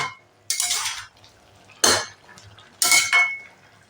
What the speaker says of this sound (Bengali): এটা সুন্দর করে নাড়াচাড়া করে মিশিয়ে দেবো একদম।